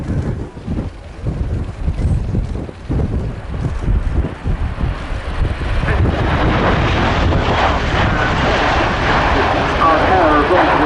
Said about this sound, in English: With the rotors tilted forwards, effectively acting as propellers.